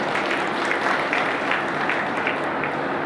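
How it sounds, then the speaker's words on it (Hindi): Applause at a college programme for World Book Day, a dense, steady clapping crowd filling the room, loud and continuous without a break. "तालियां"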